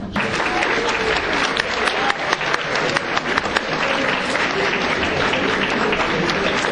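Steady, sustained applause from an audience of high school students in an assembly hall, a dense even patter of many hands with a few sharper claps near the front.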